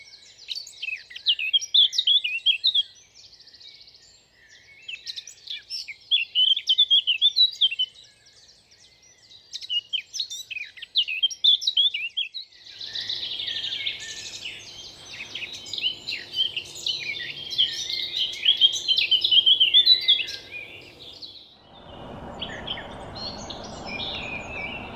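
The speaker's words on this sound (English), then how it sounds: "it's worth getting up early in the morning to listen to the dawn chorus" A dawn chorus fills the air in Hembury woods in May, several birds singing bright, chirping phrases in overlapping bursts at moderate distance, with a faint low hum joining partway and a broadband rustle near the end.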